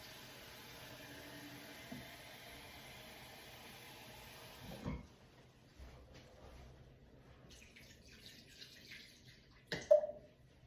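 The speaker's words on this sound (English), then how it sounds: "I usually fill the crock pot with water to about the halfway mark" Water runs into a crock pot as a steady hiss that stops about halfway through, followed by a few faint clinks and small knocks nearby in a quiet kitchen.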